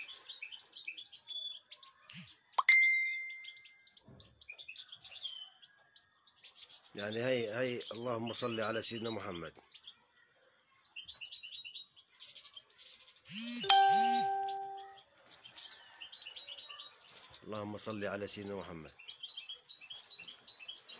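Goldfinches chirp and tweet in short bursts throughout, interrupted by a voice speaking and chanting over them.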